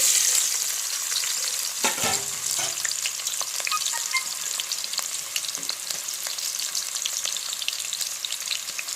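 Two chopped onions frying in hot oil on a stove, a loud, dense, continuous sizzle with scattered crackles and scraping stirs throughout, no talking.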